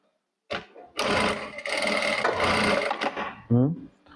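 A Jack A4 straight-stitch industrial sewing machine runs in several close, loud bursts of stitching, with short pauses between runs for a backstitch, and a brief voice at the end.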